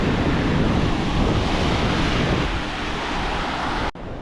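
Ocean waves wash steadily onto a Florida beach, a loud, broad rushing surf with wind buffeting the microphone, continuing for about four seconds before cutting off sharply.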